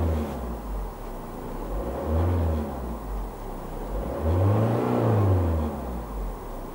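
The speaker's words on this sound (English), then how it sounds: "Okay, and if I press the acceleration," A Citroen Xsara Picasso engine revved twice in succession while parked, each rise swelling from idle to a higher-pitched roar and falling back, close and loud with no talk.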